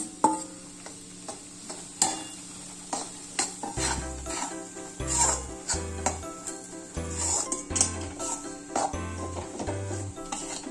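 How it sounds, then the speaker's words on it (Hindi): Gram flour roasting in hot ghee, stirred with a spoon: steady soft sizzling under repeated scraping strokes and light metallic clinks against the pan, close and fairly loud. "बेसन को धीरे धीरे करके भूनेंगे"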